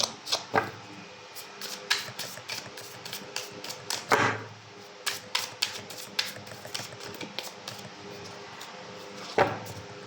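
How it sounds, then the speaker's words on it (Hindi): Tarot cards shuffled by hand, a run of quick soft riffling clicks and flutters with a couple of louder snaps, close and fairly quiet, no voices. "Last shuffle."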